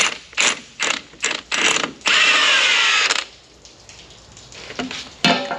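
A stubborn bolt being turned out with a ratchet on grass-cutting equipment: loud, close bursts of rapid pawl clicking, then a longer steady grinding spell and a final sharp click.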